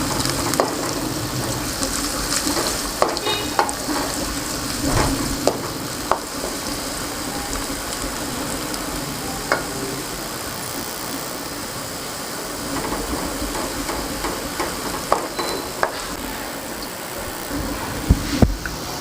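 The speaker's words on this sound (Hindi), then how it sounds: "ये भी साथ प्याज़ों के साथ हम इसको हल्का सा भून लेंगे।" Onions sautéing with cumin and garam masala in a pan, a loud, busy sizzle with occasional sharp scrapes and taps of a stirring spoon, close and steady with no talking.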